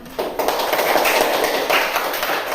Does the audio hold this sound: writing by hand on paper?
no